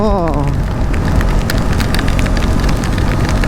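Heavy rain roars steadily against a rush of wind and road noise while riding a KTM Duke 390 motorcycle on the road to Bangalore, with a brief voice at the very start.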